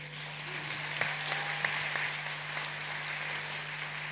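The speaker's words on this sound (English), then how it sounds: "Another round of applause for President Samia Suluhu Hassan." Conference audience applauding after a president's speech at an African climate change summit, a steady far-off wash of clapping at low level under a constant hum, with a few sharper claps standing out.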